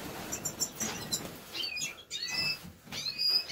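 Goldfinches chirp and tweet from a cage close by, a scatter of short, bright calls over light rustling and fluttering, with no one speaking.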